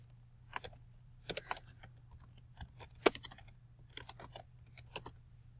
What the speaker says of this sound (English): So I'm going to type in "Christmas never looked better."